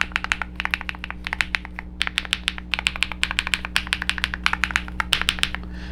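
Typing on a Dark Alien K102 budget full-size keyboard with a plastic case, foam inside and mechanical switches, giving a close, steady run of quick clicky keystrokes in bursts with short pauses, alone with no talking.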